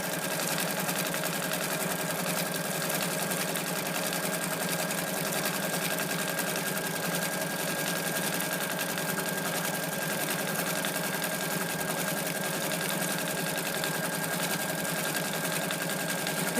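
A Bernina sewing machine with a circular embroidery attachment stitches a circle into solid-color batik fabric, giving a steady, close, continuous mechanical whir that keeps an even pace for the whole stretch with no talking.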